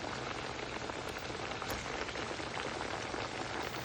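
Potato vadas sizzle in hot oil with a dense, steady crackle and hiss that holds at an even level throughout, close by, with no talk.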